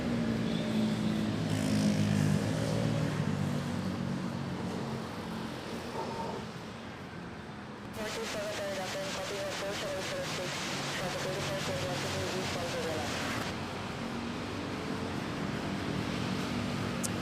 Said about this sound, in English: this is a very late touchdown by this Philippine Airlines A330